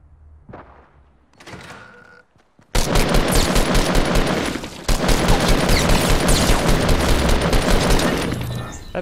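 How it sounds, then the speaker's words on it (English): Pistol gunfire in a video game cracks out in loud rapid volleys after a few quiet seconds with a couple of faint thuds, the shooting continuing nearly nonstop with a brief gap. "That pistol is so strong."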